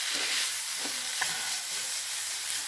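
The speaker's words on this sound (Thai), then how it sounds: "ผัดมาม่ากะเพรานะคะมาม่าผัดกะเพรา" Mama instant noodles stir-fry with holy basil in a pan, giving a steady, close sizzling hiss with faint scraping of the spatula.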